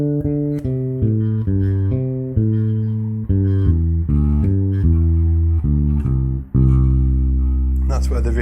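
A plain bass guitar riff without trills or stings, loud, clean repeated low notes stepping in a steady groove for about eight seconds, with no talking.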